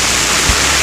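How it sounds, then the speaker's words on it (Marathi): Waterfall at the Marleshwar temple cliff in heavy monsoon rain, a steady loud broadband roar of falling water close by, constant throughout with no voices. "त्या धबधब्याचं पाणी थेट येत आहे इकडून डायरेक्ट इथे"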